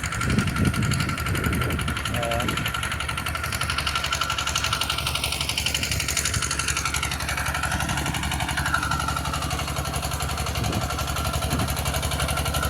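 A two-wheel hand tractor pulling a harrow through a wet field, its engine running steadily and continuously at a close, moderate level throughout, with no talk over it.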